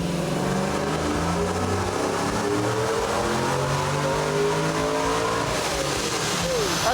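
Supercharged Chevrolet Trailblazer SS engine with a Terminator X kit revs hard on a dyno, its pitch climbing steadily through the gears in a loud, continuous roar as voices talk nearby.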